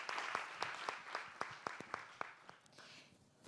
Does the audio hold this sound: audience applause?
yes